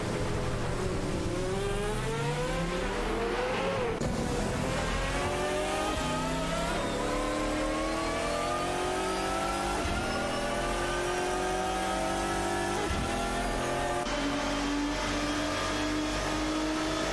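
Race cars in an AI-driven racing video game roar and rev continuously, engine pitches rising and falling as several cars jostle for position on track, loud and steady throughout with occasional gear shifts.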